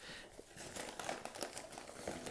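A plastic bag from an emergency bug-out kit crinkles and rustles as it is handled up close, in irregular soft bursts.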